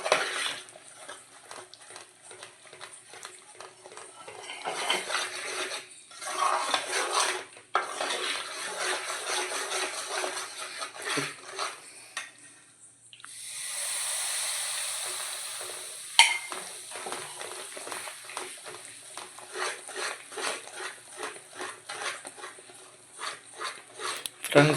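A spoon stirs Mysore pak mixture in a pan, producing scraping, sizzling and clinking in irregular bursts with a steady hiss in the middle, moderately close.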